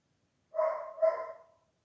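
A neighbour's dog barks twice in quick succession, the two barks fairly clear but slightly distant, with quiet around them and no talking.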